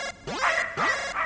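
A dog barks in the video game Snatcher, two sharp, close barks about half a second apart, loud and without talk.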